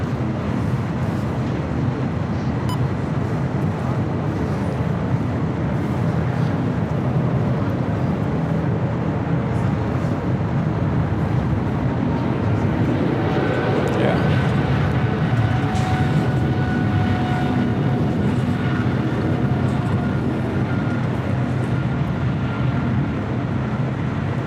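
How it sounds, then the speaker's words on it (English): An Aerologic Boeing 777 freighter rolls for takeoff at LAX, a loud, steady, broadband jet roar that swells slightly in the middle and fills the whole span without a break. "It's like Aerologic 777 freighter now rolling"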